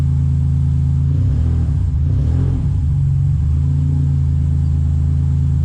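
Subaru Impreza with a turbocharged EG33 flat-six warming up, a steady close idle rumble with a short blip of revs in the middle, no talk.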